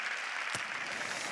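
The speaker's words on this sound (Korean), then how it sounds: "우리 큰 박수 올려드리며 나아가겠습니다" A congregation at an evening worship service of a mission conference applauds, producing a dense, steady clapping with no break.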